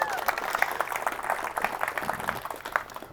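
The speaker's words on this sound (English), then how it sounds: "Let's give another round of applause for our bride," A wedding crowd claps for the bride in a fairly close burst of applause, with a voice talking over the clapping.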